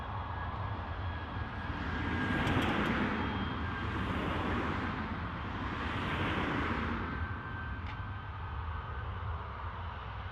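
An Aer Lingus airliner inbound from Rome on approach to Dublin Airport, a steady broad jet roar swelling and easing at a distance, with a faint whine riding over it.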